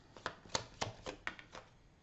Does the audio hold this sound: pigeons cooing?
no